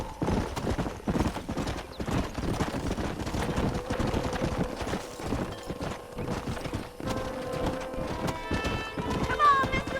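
Horse hooves clip-clop at a steady gallop in Red Dead Redemption, loud and continuous, with shouting voices and whinnies mixed over the hoofbeats throughout.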